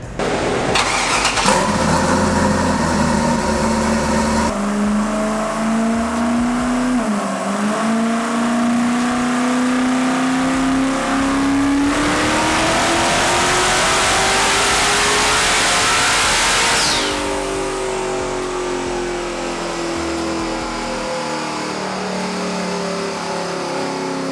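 An eight-turbo LS-swapped Mustang engine on a dyno, loud and close, starting up then revving in a long sustained climb with rising pitch and turbo whine before easing back to a rumbling idle.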